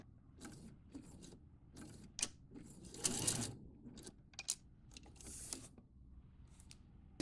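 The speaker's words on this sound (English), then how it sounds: "Now when we're going to sew the pocket, I'm doing that from the inside" A Pfaff sewing machine stitches a pocket seam, giving quiet, uneven bursts of mechanical clicking and whirring, with a few sharper taps and one louder run in the middle, and no voices.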